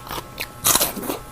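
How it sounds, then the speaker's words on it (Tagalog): Crisp crunching bites into raw onion close to the mic, a few sharp crackly snaps in quick succession. "Malutong na sibuyas."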